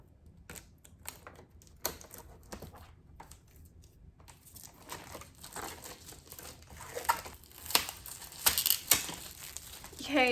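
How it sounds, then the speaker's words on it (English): Plastic wrap being peeled and crumpled off the packaging of a 2020 MacBook Air, a series of close crinkles, rustles and sharp crackles that grow denser and louder toward the end. "Oh my gosh, there's 2 pieces of plastic."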